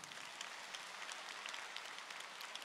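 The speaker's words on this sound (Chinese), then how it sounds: "鼓掌。" An audience applauds at a religious gathering in Kuala Lumpur, with steady, faint, distant clapping that carries on briefly with no talk over it.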